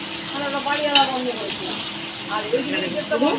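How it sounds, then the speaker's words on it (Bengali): Chicken scraps sizzle in a pan as a utensil stirs and scrapes through them, with a few metallic clinks, while someone talks over the frying. "এই দেখুন এটা তুলে এই যে নেড়ে দিচ্ছি"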